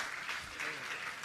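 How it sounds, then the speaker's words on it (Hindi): A short burst of steady crowd applause at a Jain monk's gathering, dense and even, filling the space without pause. "जोरदार तालियों से उनका स्वागत अभिनंदन कर दें।"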